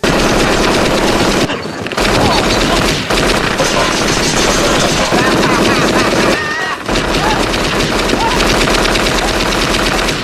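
Firecrackers mimic a gunfight in the film Home Alone, loud dense rapid bursts like machine-gun fire crackling continuously, briefly pausing twice, with movie dialogue mixed in.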